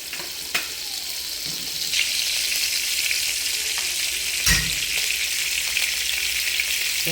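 Butter sizzles in a pan of sardines with a loud, steady hiss. A few sharp clicks and a soft thump from the pan and utensils break into it, and no one speaks.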